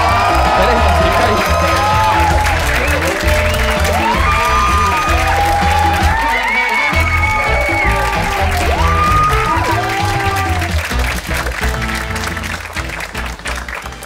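A comedy club audience in Rio greets a stand-up comic with loud, sustained applause, cheers and whoops, a dense crowd roar that fills the room and only starts to thin out near the end.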